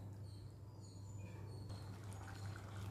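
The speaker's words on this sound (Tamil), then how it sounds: "இதுல ஒரு கிளாஸ் அளவுக்கு தண்ணி விட்டுக்கோங்க" Water from a glass poured into a pan of masala-coated prawns for a prawn curry, a soft, faint steady splash and trickle over a low hum.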